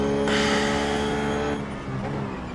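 A Ruf GT3 race car in iRacing at Suzuka brakes hard and downshifts to fifth, its engine note dropping from a loud steady roar through a stepped gear change, with a faint tire squeal near the end.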